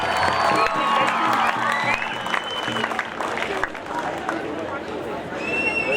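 A crowd at the opening of a scouts' peace rally claps and cheers, dense applause with whistles and shouts mixed in, staying loud for several seconds before easing slightly.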